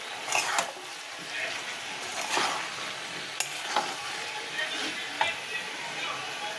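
Stirring a frying cauliflower and potato curry with coriander leaves, soft sizzling under intermittent scraping strokes of a spoon in the pan, fairly close.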